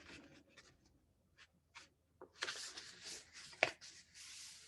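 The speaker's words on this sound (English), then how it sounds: "I'm going to fold this card" A paper card being folded by hand: a scatter of soft, brief rustles and creases, then a denser stretch of crisp paper scraping with one sharp crackle, close and fairly quiet.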